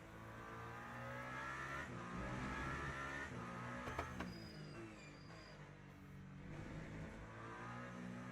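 Toyota GR010 hypercar racing at Spa in a video game, engine droning and revving steadily at high speed, with a brief tire squeal and a few shifts in pitch, moderately quiet and continuous.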